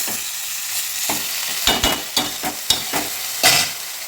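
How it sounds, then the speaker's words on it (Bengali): Chicken being sautéed in a wok (kadai) for a thin chicken curry with potatoes, a steady sizzle broken by several stirring scrapes and knocks of the spatula against the pan, close by. "এটা কষিয়ে নেব, কড়াইয়ের মধ্যে দিয়ে নেব।"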